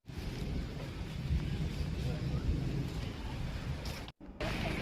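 Heavy monsoon rain with rumbling thunder in the Araku Valley hills of Andhra Pradesh, a dense continuous roar, loud and close, with a brief cutout near the end.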